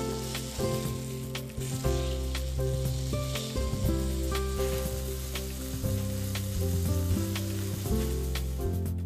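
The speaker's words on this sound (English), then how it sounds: "Wait 10 seconds and then place the meat in the pan." Meat sizzles and fries in a hot Demeyere stainless steel pan with no oil or butter, a loud, steady crackle and hiss that runs throughout.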